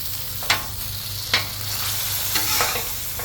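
Sweet heat sloppy joe filling with green peppers and onion being stirred on a Blackstone griddle, with three sharp spatula scrapes over a steady sizzle and no talking.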